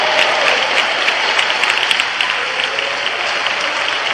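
A church congregation claps together in praise during a worship service, dense continuous applause filling the room at full volume without a break.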